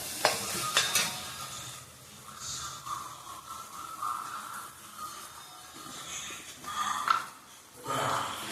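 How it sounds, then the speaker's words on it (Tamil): Onions with a pinch of salt sauté in a pan, a soft low sizzle under scattered spoon scrapes and light clinks of metal against the pan, fairly quiet and close, with no one speaking. "கொஞ்சோண்டு உப்பு போட்டு வதக்கிறேங்க"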